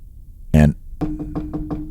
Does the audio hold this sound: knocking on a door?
yes